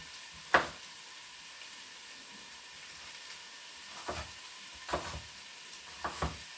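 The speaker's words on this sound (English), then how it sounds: "I'll put it on the pan now just to cook it off a little bit." Chopped red apple pieces cook in a pan with a steady, quiet sizzle, broken by a few sharp clinks and scrapes of stirring, heard alone without talk.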